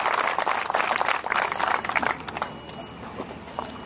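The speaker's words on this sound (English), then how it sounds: "can we give a round of applause for Dom Palumbo" A crowd at a clubhouse groundbreaking event applauds for Dom Palumbo, dense clapping and cheering that swells loudly for about two seconds and then thins to a softer, scattered patter.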